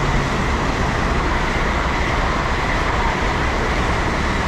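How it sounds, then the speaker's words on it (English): A fast IET train passes through a station platform between Oxford and Reading, a steady loud broadband roar and rumble holding for several seconds with no voices. "we have a train passing through whilst I'm yapping on"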